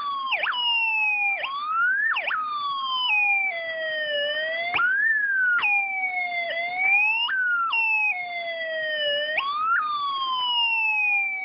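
Snap Circuits light-controlled police siren, an electronic wailing tone that repeatedly sweeps down and jumps back up in uneven cycles as a hand blocks the light, loud and close with no talk.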